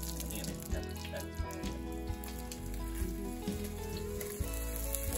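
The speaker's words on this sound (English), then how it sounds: "We're just going to brown these off." Round steak browning in hot oil in a small skillet or Dutch oven, a steady, close crackling sizzle with bursts of spattering and no talk.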